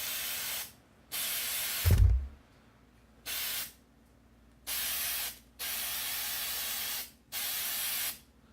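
Close aerosol spray bursts coat crystal Mega Man amiibo figures: five separate hissing blasts of about half a second to a second each, with a single dull knock between the first two.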